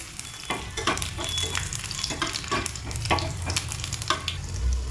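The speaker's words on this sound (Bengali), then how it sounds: "তেলের মধ্যে দিয়ে দেবো শুকনো লঙ্কা আর দিয়ে দেবো কয়েকটা রসুন। খুব ভালো করে ফ্রাই করে নেবো।" Dried red chillies and garlic frying in hot oil for a tomato and aubergine mash, a close steady sizzle broken by repeated scraping stirs from a spoon in the pan.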